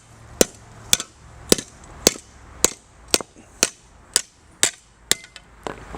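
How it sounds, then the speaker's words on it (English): A hammer strikes a metal rod again and again to bend it into a curve for a lobster tickle stick, about eleven sharp, close, loud metallic bangs spaced roughly half a second apart, with no talking. "just bang it with the hammer."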